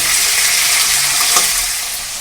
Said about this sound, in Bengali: মাছের মাথাটাকে ভাজার সঙ্গে সঙ্গে কিন্তু আমি ভেঙেও নিয়েছি